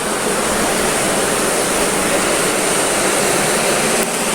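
A river flows beneath a prayer house raised on stilts above the water, giving a steady, loud, broadband rush of water that holds constant throughout with no voices.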